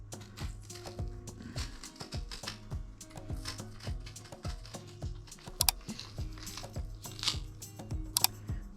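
Knife chopping into a vegetable on a cutting board while making spicy black bean tacos: a rapid run of close, sharp taps and knocks, uneven in rhythm, with a few louder clacks toward the end.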